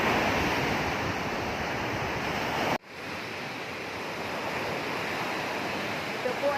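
Steady broadband wash of sea waves on a beach, loud and continuous, with a brief dip partway through before the surf noise resumes.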